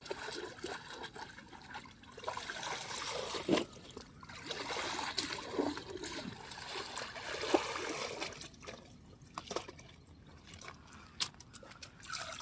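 Water trickles and splashes while a bag from a vehicle is washed outdoors, faint and irregular, with small splatters and pouring gurgles coming and going.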